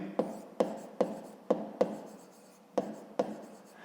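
A pen writes in a notebook while someone works through a fifth-grade maths exercise. About seven crisp, close ticks land at a fairly even pace over a soft scratching trace, with no one talking.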